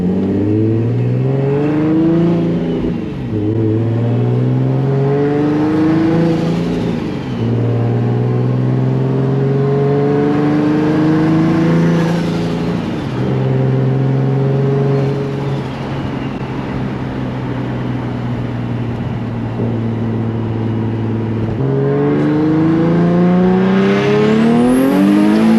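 A turbocharged Nissan Z car accelerates hard in second gear, its engine climbing through repeated loud revving pulls with shifts and brief lifts between them, sustained and close throughout.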